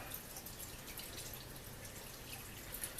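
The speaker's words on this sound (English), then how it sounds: "Got to go for quite a gentle pour." Sloe gin poured gently from a vessel gives a soft, steady trickle and faint drips, quiet and continuous, with no voices.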